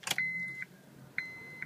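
Electronic chimes inside a 2006 Honda CR-V EX as the key is turned: two clear tonal beeps sound close by, each about half a second long, after a brief click, with faint cabin hum between them.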